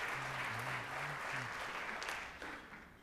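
Short, steady applause from a college event audience, moderately loud, with faint voices under it.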